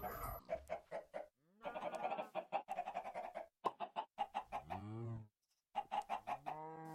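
Chickens cluck repeatedly in a Minecraft game after an egg is thrown, a string of short clucks and squawks in bursts, fairly close, with no talk over them.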